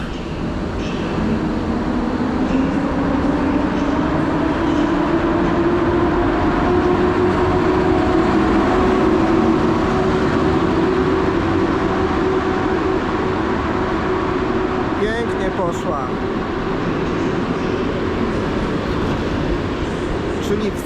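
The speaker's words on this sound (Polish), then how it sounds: "Pociąg jest odprawiany i za chwilkę będzie myślę super rozruch" A rare train pulls out of Kraków Główny station, a steady rolling rumble with a slowly rising tone, plus a brief cluster of clicks or squeals near the end.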